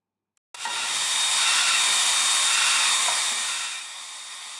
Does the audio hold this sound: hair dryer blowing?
yes